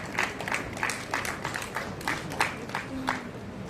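A crowd at a school results celebration claps for the principal receiving a gift, with a dense, moderately loud patter of many hands that holds steady throughout, and voices murmur faintly underneath.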